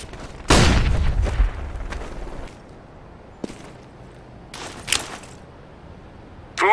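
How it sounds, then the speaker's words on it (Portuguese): A flashbang grenade goes off in the video game CS:GO on the Dust II map, with one loud, sharp blast that dies into a short rumble, followed by a few fainter pops and clicks. "Flashbang."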